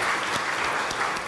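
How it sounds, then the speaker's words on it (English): An audience applauds speakers onto the stage at a plenary session on philanthropy, a dense, steady wash of clapping from a full hall throughout. "Help me to welcome them to this stage by clapping your hands"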